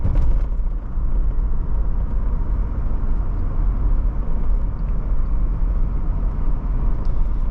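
Steady low rumble of wind and road noise inside the cabin of a 1987 Mercedes-Benz 300TD wagon with a roof rack, a continuous even drone with a hint of wind hiss and no talking.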